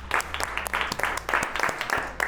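Workshop participants clapping after a takt-time simulation round, a short burst of uneven, close claps from a small group with some talk mixed in.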